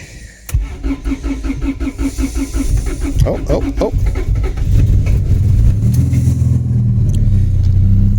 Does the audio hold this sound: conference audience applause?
no